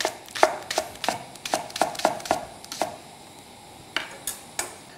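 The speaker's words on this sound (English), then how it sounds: "so just slice it reasonably thin." A knife slices a clean leek thinly on a chopping board, about nine crisp, evenly spaced cuts in quick rhythm followed by a pause and three more sharp taps, close and alone.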